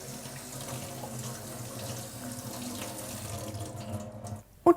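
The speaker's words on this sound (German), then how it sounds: "Zuerst den Basilikum kurz unters Wasser halten" Steady stream of water running from a tap while rinsing basil, with a brief clatter near the end.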